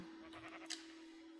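A Minecraft sheep gives one short, wavering bleat with a steady tone, faint and alone, followed by a brief soft click.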